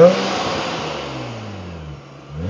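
A supercharged 2005 Nissan 350Z Touring revs loudly and close by, its engine note rising and falling with a steady mechanical whine over the throttle blips.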